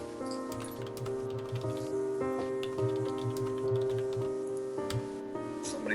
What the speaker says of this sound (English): Somebody's typing like crazy.